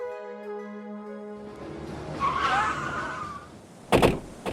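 A car starts up and pulls away, its engine revving and tires squealing in a skid, then a sharp thump or door-like bang near the end, all fairly close with no talking.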